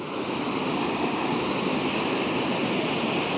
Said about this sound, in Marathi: हा आहे सोमेश्वर धबधबा, बालाजी मंदिराच्या एकदम समोरच आहे.